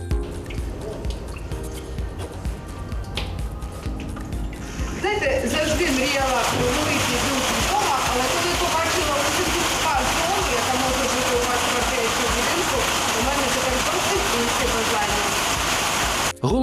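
Water streams steadily in a futuristic shower cabin, a dense, even hiss that starts abruptly after a few seconds of quieter background and then runs loud and unbroken to the end.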